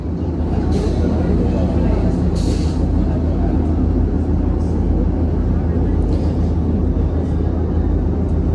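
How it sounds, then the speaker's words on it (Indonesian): Supas commuter train from Pasuruan bound for Surabaya Kota pulling into a station, a loud continuous low rumble with brief hissing bursts, heard on a rainy platform. "Nah ini dia merupakan kereta api komuter lain Supas dari Pasuruan dengan tujuan akhir stasiun Surabaya Kota."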